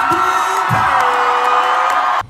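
A concert crowd cheers and whoops for the guitarist, a loud, sustained roar of voices with high screams on top that cuts off abruptly near the end.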